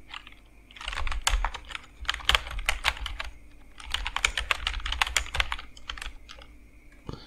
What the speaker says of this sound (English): Now retype the password.